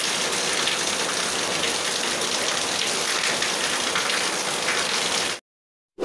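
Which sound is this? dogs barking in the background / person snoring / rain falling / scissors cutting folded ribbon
rain falling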